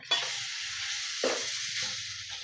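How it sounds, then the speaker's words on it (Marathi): Prawns fry in a spice masala over low heat, a close, continuous bright sizzle punctuated by a few stirring scrapes. "आणि कोळंबी आपल्याला अशी फ्राय करून घ्यायची आणि एकदम बारीक गॅसवर एक ते दोन मिनिट अशी कोळंबी मसाल्यात फ्राय करायची"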